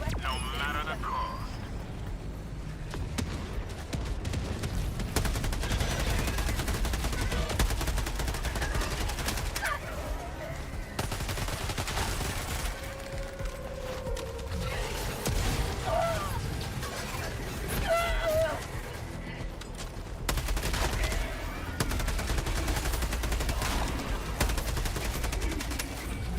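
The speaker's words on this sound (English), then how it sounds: "Give me my autocannon now." Autocannon fire in a video game shooter rattles in repeated bursts over a constant rumbling battle din, with gunfire and explosions clustering throughout, while someone talks over the action.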